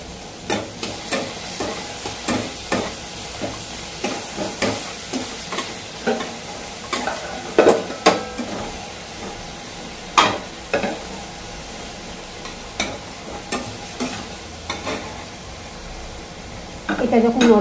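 Tomato frying with a little salt in a pan, under a steady soft sizzle broken by repeated scraping stirs of a spoon, near and moderately loud, stirring slowing toward the end.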